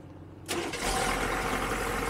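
Quiet background, then a 1987 AM General M998 Humvee engine cold-cranks and catches, settling into a loud, rough idle that continues steadily.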